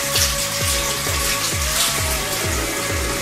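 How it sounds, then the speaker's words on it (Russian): Running tap water used to rinse a face mask off the skin, a steady splashing flow with a rhythmic low pulsing underneath, no voices. "а затем смываем водой"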